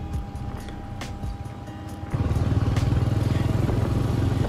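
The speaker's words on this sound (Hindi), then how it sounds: "डेनिस लगातार सिनेमैटिक शॉट ले रहा था और मैं अपनी बाइक दौड़ा रहा था" A Royal Enfield Bullet Electra 350 motorcycle being ridden, first a softer engine rumble, then a louder, steady thumping exhaust beat with wind noise as it pulls away, nearby and continuous.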